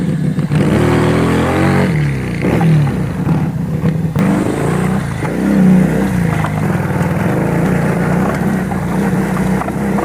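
A Buccaneer 250i motorcycle engine revving hard while riding off-road, close and loud, with rising and falling pitch sweeps as the throttle opens and closes, under steady wind rush.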